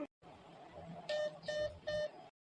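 A phone call cut off, ending in three evenly spaced electronic disconnect beeps after a brief murmur, close and clear.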